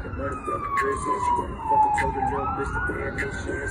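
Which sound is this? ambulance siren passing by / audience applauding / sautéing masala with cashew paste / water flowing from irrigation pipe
ambulance siren passing by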